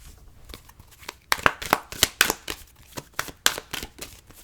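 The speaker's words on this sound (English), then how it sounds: "these cards are kind of loud. I'm trying to shuffle them" Tarot cards are riffled and shuffled up close, a steady series of crisp papery flicks and slaps in quick rhythm.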